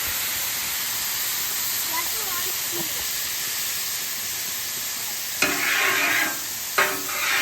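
Water splashed onto a hot cast iron griddle boils up into a loud, steady steaming sizzle and hiss, with a sharper burst of bubbling spray near the end.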